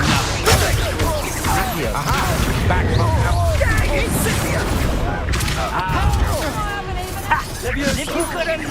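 A fiery Incendio spell bursts out during a Hogwarts Legacy duel, buried in a dense, continuous wash of combat effects, blasts and crashes, with voices calling out over the fight.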